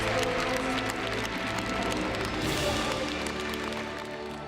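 Congregation at a Korean church revival service applauding after a prayer, a dense, steady wash of clapping that fills the space throughout, with some voices mixed into the crowd noise.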